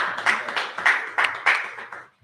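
An audience claps in several short swelling bursts, a rhythmic patter of hands that rises and fades about six times before stopping.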